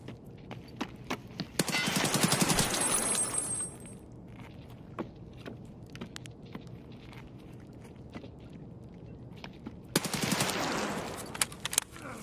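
Automatic gunfire in Escape from Tarkov: two loud, rapid bursts, one early and one late, with sparse single shots and quiet footsteps in between.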